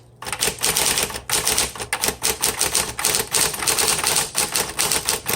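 A 1960s Smith Corona Coronet electric typewriter typing steadily, with rapid, even key strikes in a continuous run, close and crisp.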